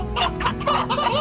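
A rooster in the video game Slime Rancher clucks in a quick run of four or five close, loud, throaty clucks packed into just over a second.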